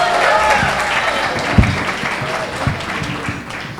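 Loud applause from an audience greeting a speaker, a dense burst of clapping that swells at the start and gradually thins out.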